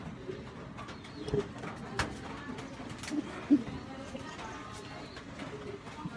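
Pigeons coo softly in a loft, with a few louder calls and shuffles over a low, steady background.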